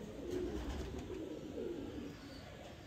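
Pigeons coo in soft, repeated low rolling calls, fairly close, over a steady background hum.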